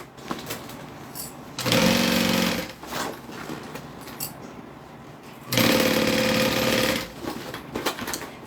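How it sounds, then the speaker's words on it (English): A sewing machine runs in two bursts, stitching bag pieces together, the inside and outside layers joined; each run lasts about a second and a half, loud and close, with quiet room sound between. "now I'm going to sew these to the inside and outside together"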